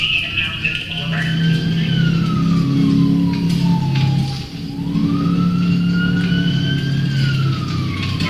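A police car siren wails loudly and close, its tone sweeping slowly up and down in long cycles over a rumbling engine.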